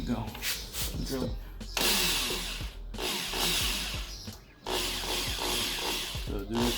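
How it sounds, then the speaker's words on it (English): A power drill bores a hole through a car bumper on a Subaru BRZ/FRS/GT86 up close, in three loud bursts with short pauses, the bit whining and grinding through the material. "Drill."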